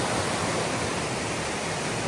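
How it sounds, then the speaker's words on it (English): Water rushing down a mountain stream on Mt. Moosilauke, a loud, constant broadband roar of cascading water with no pauses, close by and alone without voices. "And the water's just rushing down."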